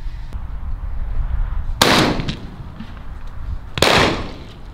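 Two sharp, loud shotgun blasts from a 28 gauge fired at pigeons during an outdoor hunt, spaced about two seconds apart, each with a brief rolling echo over quiet background.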